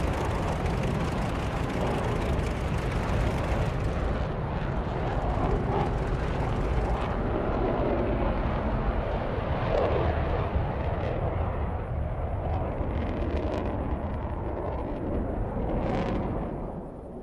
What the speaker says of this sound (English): I'm rather liking the radial engines.